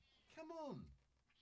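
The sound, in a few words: cat meowing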